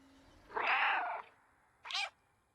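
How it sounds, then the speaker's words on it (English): A cat in the video game Stray meows twice: a longer, loud meow followed after a short pause by a brief, higher chirping meow, close and clear with no talk. "Can I meow? That is a solid meow if I've ever seen one."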